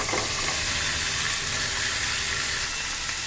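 Chicken pieces fry with onion, capsicum and green chillies in a pan, a loud, steady close sizzle with stirring scrapes throughout and no voices.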